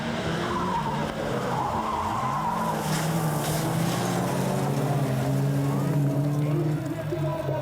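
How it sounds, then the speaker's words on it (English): A shell-backed Toyota rallycross car at a 1994 European Rallycross round in Belgium skids and rolls over, its engine roaring with rising and falling revs and scraping, crashing noise, loud and continuous, with commentary over it. "Bolin, in the second of the 2 shell-backed Toyotas, had been having a fairly checkered season. And here he was going to go out on a roll."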